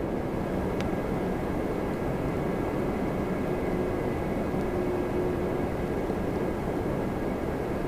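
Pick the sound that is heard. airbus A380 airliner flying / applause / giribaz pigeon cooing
airbus A380 airliner flying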